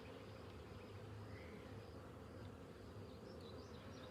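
Honeybees from a recently hived swarm buzz in a soft, steady drone around the hive, faint and uninterrupted.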